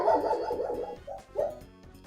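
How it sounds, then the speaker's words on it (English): A dog barks repeatedly in a room, a run of loud, closely spaced woofs followed by a couple of separate barks after a short pause, with no talk over it. "dog. He's really barking."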